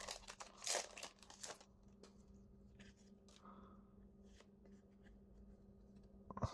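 A Pokémon TCG Temporal Forces booster pack is torn open close up, a loud burst of crinkling foil and ripping at the start, then quieter rustling and handling of the cards, with no talking.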